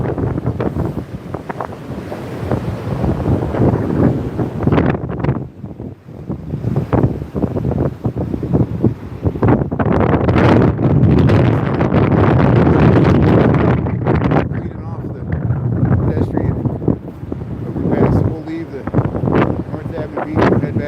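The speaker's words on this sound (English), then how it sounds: "I'm getting tired of this wind blasting me in the face." Strong wind blasts across the microphone on a snowy Lake Michigan shore in Chicago, a loud, continuous roaring buffet with gusty swells that stays rough throughout.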